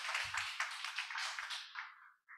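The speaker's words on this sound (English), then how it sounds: "Please round of applause for Jem for the great presentation." A quiet, distant round of clapping from a business summit audience after a presentation, a soft patter of hands that thins out and fades, with a brief low thump partway through.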